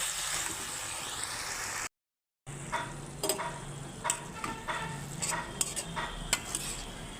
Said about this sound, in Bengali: এখন আমি শাকটাকে নেড়ে চেড়ে ঢাকনা দিয়ে দেবো